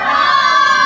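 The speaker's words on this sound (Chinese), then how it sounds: "喂喂喂，掌声" A crowd at a countdown event at the World Trade Centre cheers and applauds in a brief, dense burst of many voices and claps, loud and close.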